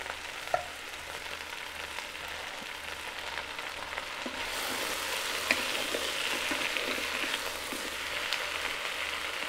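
Smoked sausage browns in a pot for corn chowder, a steady close sizzle and crackle that grows a little louder midway, with faint stirring taps and no talk.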